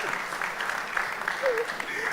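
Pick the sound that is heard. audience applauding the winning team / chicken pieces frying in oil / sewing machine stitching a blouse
audience applauding the winning team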